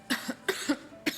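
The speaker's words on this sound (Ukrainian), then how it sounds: "Але кашель нестерпний." Several quick, harsh coughs in a row, close and fairly loud, grouped in pairs.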